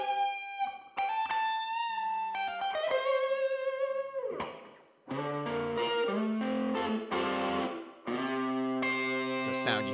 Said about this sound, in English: Big crunchy guitar sound, and then you hear the reverb kind of happening in the other ear